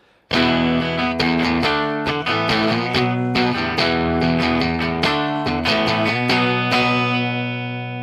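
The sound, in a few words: electric guitar clean tone through amp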